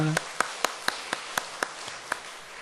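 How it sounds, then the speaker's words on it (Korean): A church congregation at a mothers' prayer meeting gives welcoming applause: a brisk, evenly spaced series of single claps, moderately near, over a soft room background. "다 같이 우리 환영의 박수하도록 하겠습니다"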